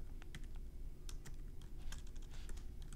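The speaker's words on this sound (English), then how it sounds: "So we'll just type a little description in here." Typing on a computer keyboard while making a digital poster in Google Slides, a steady patter of close, light key clicks in quick uneven bursts with no voices.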